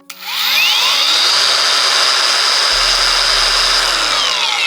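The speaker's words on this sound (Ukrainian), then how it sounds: "Плавний пуск забезпечує м'який запуск двигуна без зайвих ривків." A Dnipro-M DGA-202SBC cordless brushless angle grinder soft-starts and spins up smoothly to a steady, loud, high-pitched whine that holds at full speed alone.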